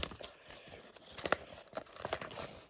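A small paper packet is torn a little, with faint close crinkling and a few short tearing crackles in a quiet room.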